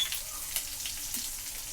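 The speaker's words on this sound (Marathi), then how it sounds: "आपल्याला हे छान असं तळून घ्यायचं आहे" Green chillies and curry leaves sizzle in hot tempering oil for dal-rice dhokla, a soft continuous frying crackle with faint stirring, close and alone without talk.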